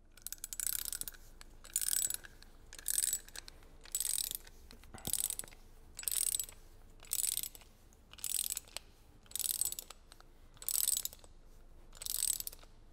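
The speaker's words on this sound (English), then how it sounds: "the dowel must be tightened with a torque specified in the approval, such that it is correctly pre-tensioned." A torque wrench tightening a TOX S-Fix stud anchor makes about eleven evenly spaced bursts of crisp ratcheting clicks, close and clear with short pauses between strokes.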